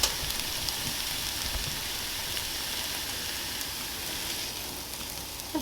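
Bacon and eggs fry in a pan, producing a steady, even sizzling hiss that runs through the whole clip without any talking.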